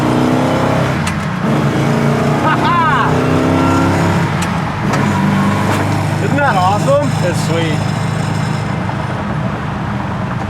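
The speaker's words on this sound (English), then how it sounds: "I love the sound of those dual quads." A loud V8 engine with dual quad carburetors in a 1960 Ford Starliner revs hard and rumbles close by, roaring continuously while people talk excitedly over it.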